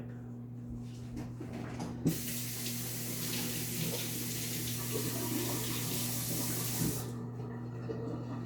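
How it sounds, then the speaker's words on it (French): A kitchen tap runs steadily for about five seconds while hands are washed under it, with a constant rush of water, a few clicks as it turns on and off, and a low appliance hum underneath. "Je vais juste aller me laver les mains."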